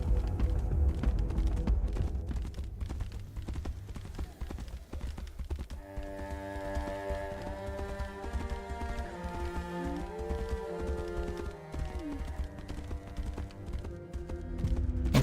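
Horse hooves clip-clop steadily in the fantasy video game Tainted Grail, a continuous rhythmic trot under ambient game music and tones, with no talk.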